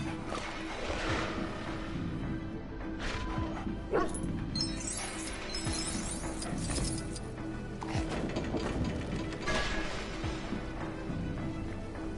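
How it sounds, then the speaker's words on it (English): The teleporting dog Lockjaw barks and yips repeatedly in the video game Lego Marvel Super Heroes 2, with whimpers mixed in and mechanical game sounds running underneath throughout. "who's a good doggy"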